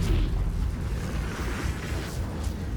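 In Baldur's Gate 3, an explosion lands as a deep, sustained rumbling boom that fills the short stretch, loud and close with no voices.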